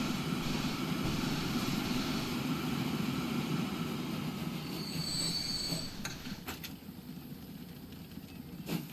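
A train in Transport Fever 2 rumbles steadily along the rails, a brief high wheel squeal rising midway before the rolling noise eases slightly toward the end.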